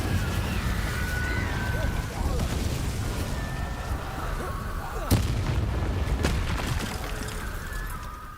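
Incendio fire spell cast in the video game Hogwarts Legacy, a series of loud booming fiery blasts with one sharp crack midway, set against rumbling game background sound.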